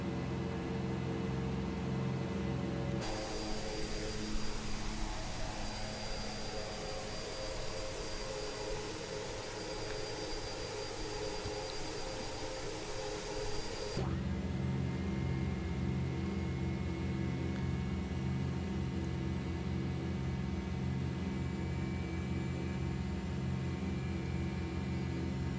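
Twin turboprop engines of a DHC-6 Twin Otter idling in Microsoft Flight Simulator 2020, a steady droning hum with a constant tone that shifts in character partway through, with no talking.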